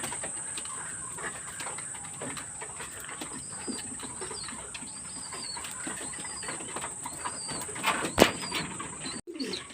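A flock of pigeons mills about nearby, soft coos and rustling wings blending into a steady busy murmur, with a brief louder flutter near the end.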